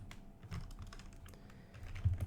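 Quick, light keystrokes on a computer keyboard, a short burst of close typing in a quiet room, ending with a couple of heavier key presses.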